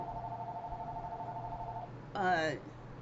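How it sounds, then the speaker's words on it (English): A phone gives a steady electronic tone, then a brief warbling ring burst, close and fairly loud with no talking. "My phone rings forever for no reason."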